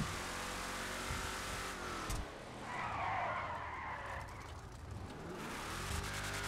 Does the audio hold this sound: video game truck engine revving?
yes